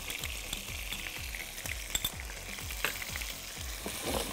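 Noodles stirred and fried in a pan with ketchup, black pepper and salt, a steady sizzle under rhythmic scraping strokes about twice a second, close and with no talking.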